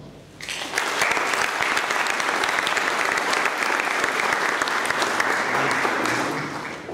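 An audience at a debate on occupational health information in Colombia breaks into sustained applause for a late professor from Antioquia, loud, dense clapping that swells quickly and holds evenly for several seconds.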